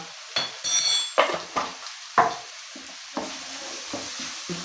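Spices with chaat masala lightly roasting in a pan over low flame, a soft background sizzle punctuated by irregular scraping and knocking strokes of a spoon against the pan.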